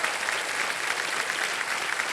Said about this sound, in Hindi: एक बार फिर से जोरदार तालियां बज जाए सोनी जी के लिए और बोनी जी के लिए